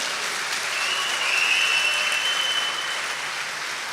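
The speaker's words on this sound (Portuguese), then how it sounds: "uma salva de palmas" Sustained applause from a church congregation during a Sunday Mass, a dense, even wash of many hands clapping together throughout, without speech.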